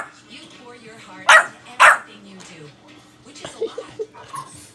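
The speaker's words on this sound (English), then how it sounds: "Why are you barking at Titan?" Two sharp, loud dog barks ring out close by, followed by softer yips and whines while a person talks.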